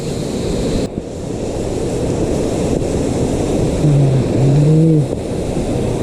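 Kaijoda waterfall in Keonjhar, a hidden 150-foot cascade, gives a loud, steady rushing roar close by, with a brief tonal hum partway through.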